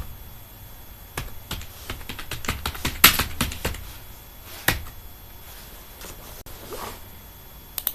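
Someone types a document name on a computer keyboard, producing close, crisp key clicks in uneven bursts with a few sharper, louder taps and brief pauses between them.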